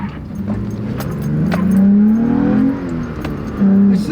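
A Toyota pickup with a manual transmission accelerates hard onto a highway, its engine note climbing steadily, dipping briefly and then rising again as it is pushed through the gears, loud and close from inside the cab.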